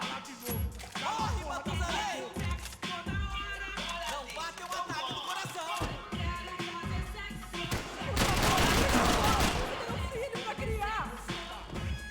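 Sustained gunfire in the action game Max Payne 3, with shots scattered across the scene and a dense, loud burst of fire in the middle, heard under voices and music.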